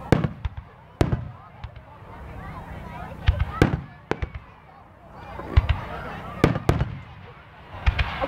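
Fireworks burst nearby and in the distance, with sharp cracks and pops at irregular intervals over a steady crackling rumble. Faint voices murmur underneath.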